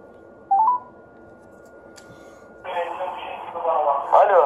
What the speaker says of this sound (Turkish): Şimdi dilerseniz bir telefon edelim ve kendilerine soralım.